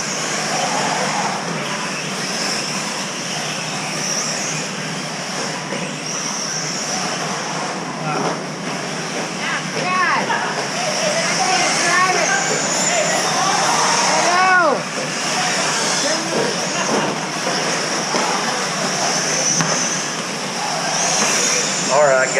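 8-scale electric RC buggies race off-road on an indoor track, their motors making a constant high whine with rising and falling pitch sweeps as cars pass. Crowd and PA voices blend in underneath.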